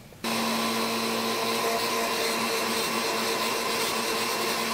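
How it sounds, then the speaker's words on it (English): A blender whirs loud and steady as it purees honey and natural yogurt into a face mask, the motor kicking in abruptly and running unbroken with no voices. "put the lid on the blender and blend it until it's smooth and creamy"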